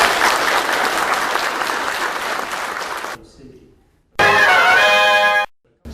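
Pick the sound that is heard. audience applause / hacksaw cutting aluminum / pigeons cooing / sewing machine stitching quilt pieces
audience applause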